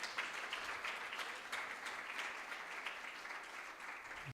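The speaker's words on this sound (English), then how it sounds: "Let us give a big round of applause for Prabhuji." Steady audience applause at a devotional talk, a continuous dense wash of many hands clapping at a moderate distance and held evenly throughout, with no talk over it.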